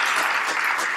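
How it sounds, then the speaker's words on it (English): A large audience claps loudly and steadily for Devdutt Patnaik, a full, dense round of applause filling the hall throughout. "I request this house to give a big round of applause to Devdutt Patnaik"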